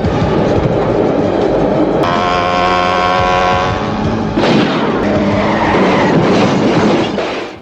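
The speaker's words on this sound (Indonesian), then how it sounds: "mengikuti kereta yang melintas" A loud train rumbles past with harmonic mechanical whine and clatter, filling the clip steadily from start to finish.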